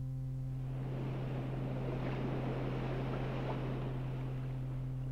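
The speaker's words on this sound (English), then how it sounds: "Ocean." Ocean waves wash steadily as a continuous broad rush of surf, alone and fairly faint beneath a constant low hum throughout.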